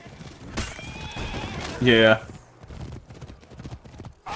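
A horse in the For Honor video game gives one loud, close whinny over galloping hoofbeats and battle noise, while a voice speaks briefly.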